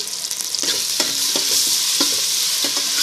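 Ginger paste frying in hot oil for a country chicken biryani, a continuous loud sizzle with a few distinct scraping strokes of a stirring spoon against the pan at roughly regular intervals.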